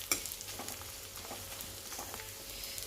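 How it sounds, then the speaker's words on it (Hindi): Edible gum (gond) fries on a low flame for laddu, giving a steady soft sizzle and crackle with occasional stirring scrapes, close and continuous without talk. "अब देखिए गोंद अच्छी तरह से भून चुका है"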